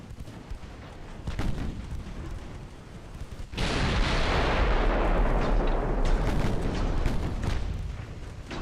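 Naval guns firing in the Ultimate Admiral Dreadnoughts game: scattered booms, then a sustained loud roaring blast that fills the rest of the clip, with no speech over it.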